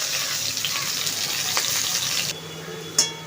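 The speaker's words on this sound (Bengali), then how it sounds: "উচ্ছেগুলো একটু ভেজে নিই ভালো করে" Bitter gourd fries in hot oil with a loud, steady sizzle that suddenly drops quieter near the end, followed by a brief clink of a utensil.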